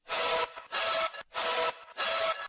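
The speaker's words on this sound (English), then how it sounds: "they have like a icy sound, I would say, which is this." Short icy synth sound designed in Serum for an electronic track, heard as four bright, noisy bursts about half a second each in an even rhythm, close and loud with no voice.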